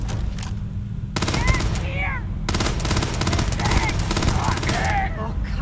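Rapid gunfire from a sci-fi firefight in the video game Starfield: dense, loud bursts of shots run nearly nonstop, broken by a short lull, with faint whistling tones over the barrage.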